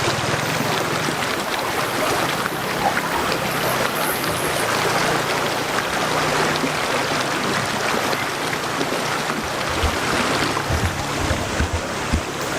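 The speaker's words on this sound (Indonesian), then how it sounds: "tanpa ada suara-suara yang lain kecuali suara dari aliran sungai ini" A continuous rushing wash of a flowing river fills the scene at Malino Hills, steady and broad, with no voices.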